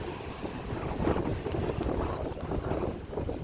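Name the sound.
wind blowing on a beach in Maui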